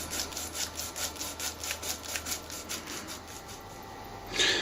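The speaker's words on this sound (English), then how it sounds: "continue to remove the rest of the burring until you're quite happy that everything is well done" Rhythmic rasping strokes scrape inside a BSA Hornet air rifle cylinder tube as burrs are removed, a steady back-and-forth rubbing at moderate distance, ending with a brief louder scrape.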